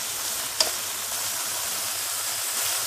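Potatoes dropped into a pan of frying onions, a brief clack as they land, then a constant, fairly loud sizzle that carries on alone without talk.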